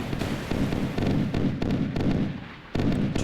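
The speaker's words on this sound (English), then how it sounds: "Gunfire is overshooting now" Dense, continuous rumbling bursts of rapid naval gunfire from the battleship Wisconsin in the video game Sea Power, with booming low thuds, loud and steady, briefly easing before a fresh barrage.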